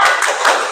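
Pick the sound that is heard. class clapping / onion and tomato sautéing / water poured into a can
class clapping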